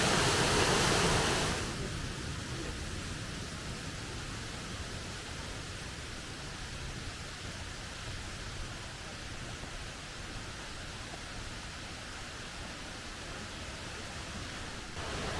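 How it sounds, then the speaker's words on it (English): A gentle flow of water nearby in a nature reserve, a soft, steady rushing hiss that runs continuously at low level, slightly louder at the very start. "we notice the sounds of everyday life fade, replaced by the rustling leaves and a gentle flow of water nearby"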